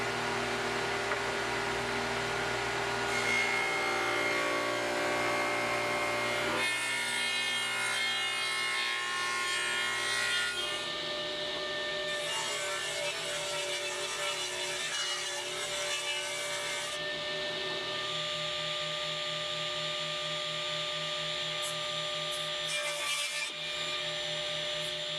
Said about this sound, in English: let's get over to the table saw, set up the dado set, and cut this rabbet